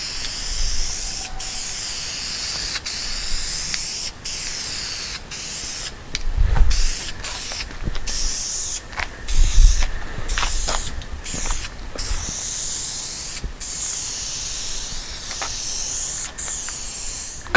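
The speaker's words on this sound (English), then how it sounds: "we'll give this a few coats" Aerosol can spray-painting masked-off parts from a 1973 Moto Guzzi motorcycle: a steady stream of close hissing spray bursts, some longer and louder, with no talking.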